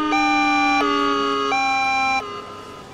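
An ambulance siren in the Emergency 4 video game wails in a two-tone pattern, switching pitch every second or so, loud and steady with no voices.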